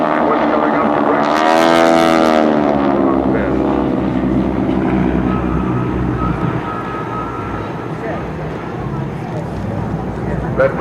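Airshow planes such as the Skytypers flying a crossing maneuver at Willow Grove, a loud engine roar swelling and sweeping past in the first seconds, then a steady drone fading slightly, with no voices on top.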